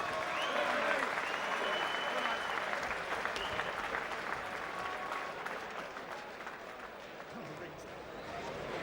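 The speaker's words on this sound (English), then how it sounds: "And a round of applause, please, for Mountain Ashes, Nathan Green" Sustained applause and cheering from a boxing crowd greets a fighter being introduced in the ring, a steady loud wash of clapping that runs throughout and eases slightly toward the end.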